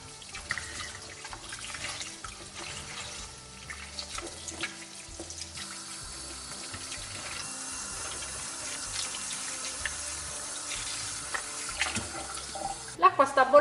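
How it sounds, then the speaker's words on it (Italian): A kitchen tap runs in a steady stream while cauliflower is rinsed under it, with a constant watery hiss and louder splashing near the end, plus some talking. "A questo punto sciacquiamo il cavolfiore."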